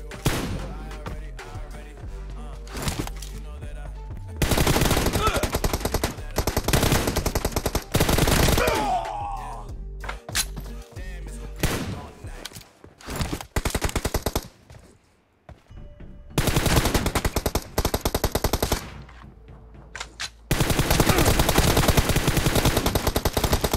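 Gunfire in the battle-royale game PUBG, long loud bursts of automatic shots alternating with single cracks and brief quiet gaps, dense and close throughout.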